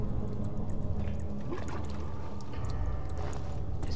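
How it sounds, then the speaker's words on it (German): Water splashes and trickles somewhere below in the horror game Amnesia: The Dark Descent, a continuous watery pour with a low rumbling bed, steady and moderately loud throughout. "Es plätschert da unten aber was."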